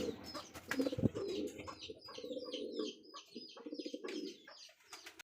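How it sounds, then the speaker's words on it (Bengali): Racing pigeons coo nearby in soft, repeated throaty calls, with a few chirps and a brief knock in between. "সেখানে আরও এক জোড়া কবুতর রেসার কবুতর"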